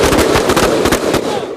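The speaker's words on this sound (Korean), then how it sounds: "기관단총을 쏘고" A submachine gun fires at a shooting range during training by a Korean special mission unit. Rapid, sharp reports come in a dense, loud burst of roughly a dozen shots within about a second and a half, close to the listener.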